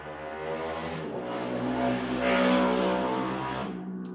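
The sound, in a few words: traffic passing on a quiet street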